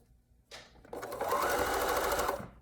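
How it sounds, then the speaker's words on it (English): A sewing machine stitches around the curve of an arm warmer, starting with a short burst and then running in one steady, close, loud whir. "keep on sewing without sewing through my finger"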